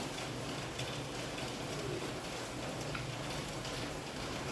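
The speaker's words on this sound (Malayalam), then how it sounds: "ഇന്ന് മഴ മഴ എന്ന് പറഞ്ഞാൽ പെരും മഴ" Heavy monsoon rain falls steadily as a dense, even hiss with a low rumble beneath, continuous and unbroken throughout with no voices.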